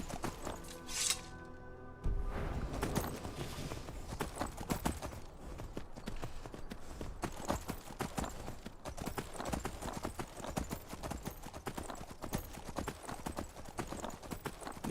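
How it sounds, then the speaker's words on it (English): Rapid horse hooves clatter steadily in a running gait in the video game The Elder Scrolls V: Skyrim, a dense, continuous clip-clop that stays loud and close throughout. "One of these buttons makes the horse run."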